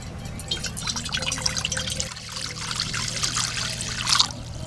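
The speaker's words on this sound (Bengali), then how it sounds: "জিরা রাইসের জন্য ভাতটা বসিয়ে দেবো। পরিমাণ মতো জল দেবো।" Water pours and trickles into a pot of washed rice being set to cook for cumin rice, a steady close splashing stream with a brief pause midway and a louder spatter near the end.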